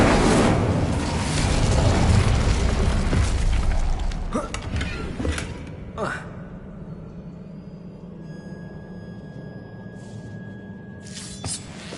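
A loud, roaring burst from the Incendio fire spell in Hogwarts Legacy opens with heavy broadband force for about four seconds, then fades into softer crackling and a quiet rumbling ambience.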